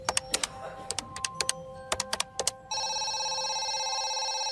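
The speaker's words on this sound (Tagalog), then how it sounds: "Agad ako nag-dial sa number ni Jessa. Hindi siya sumasagot." A phone line dialed with several quick keypad tones, then a steady electronic ringback tone that keeps sounding with no answer, clear and close.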